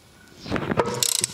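A 7mm Allen key loosens the brake caliper slider bolts on a Mercedes CLS, giving a short burst of close metallic clicks and ratcheting taps.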